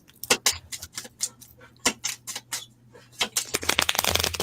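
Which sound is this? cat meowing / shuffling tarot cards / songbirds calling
shuffling tarot cards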